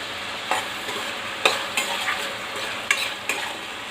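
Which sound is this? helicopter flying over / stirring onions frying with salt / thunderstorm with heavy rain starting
stirring onions frying with salt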